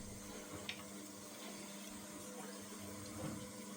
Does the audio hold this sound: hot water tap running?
yes